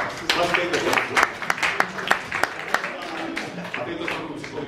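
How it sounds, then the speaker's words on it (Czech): An audience claps after a talk about a Canadabike cycling trip. Loose, uneven handclaps sound close and bright for several seconds, and voices mix in among them. "Můžete si zatleskat, protože jste úžasní"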